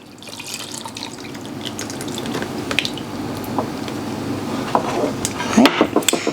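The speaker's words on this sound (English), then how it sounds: "now I'm going to go ahead and I'm going to add in the coconut oil" Coconut oil pours into muffin batter in a bowl, a soft liquid trickle followed by wet clinks and taps of utensils that grow louder toward the end.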